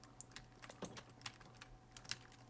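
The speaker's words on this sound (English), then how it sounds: "Yes, I'm typing." Quiet computer keyboard typing during a Minecraft session: a few sparse, light clicks and taps spread irregularly over a couple of seconds, close and soft against a low steady hum, with no talking.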